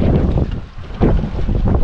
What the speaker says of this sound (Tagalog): Ang hangin ay humahagupit.